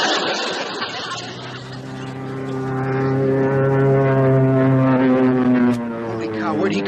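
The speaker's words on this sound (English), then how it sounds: "Bandit at 6 o'clock! Hey, enemy plane! Take cover!" A propeller-driven enemy plane drones in overhead, its loud engine hum swelling and shifting in pitch as it approaches and passes close by.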